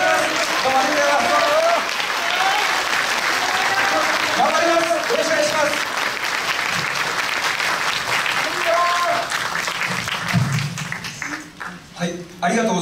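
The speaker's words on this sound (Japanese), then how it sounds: "もう一度 盛大な拍手で皆さんお待ちください" Sustained audience applause fills a community hall at a 2019 Japanese upper house election rally in Osaka, steady and loud for about ten seconds before thinning into scattered claps, with some voices mixed in.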